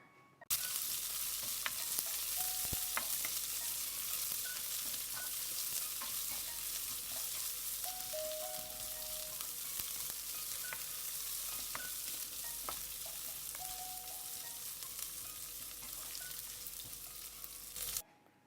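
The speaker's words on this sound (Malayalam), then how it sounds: "ഉള്ളി ചേർത്തതിന് ശേഷം ഒന്ന് കുറച്ച് സമയം വഴറ്റി കൊടുക്കാം." Sliced onions sautéing in a pan for vermicelli upma, a continuous bright sizzle with light stirring scrapes and a few faint tonal squeaks, steady and close, with no voices.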